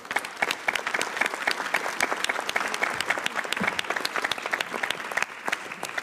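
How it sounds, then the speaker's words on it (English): Audience applause fills a conference hall at an international gathering on Ukraine's recovery in Berlin, a steady dense patter of many hands clapping continuously, fairly loud and even throughout. "Please join me in a round of applause."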